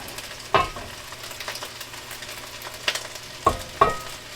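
Rice gets stirred into a squirrel and sausage mix in a pan, with a soft ongoing sizzle and a few distinct clacks and scrapes of a spoon against the pan.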